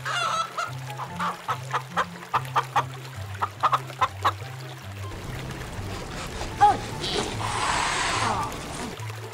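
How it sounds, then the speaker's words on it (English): Chicken clucking in a steady series of short, fairly close calls over a low repeating backing tone, with a louder wash of sound in the second half. "Chicken."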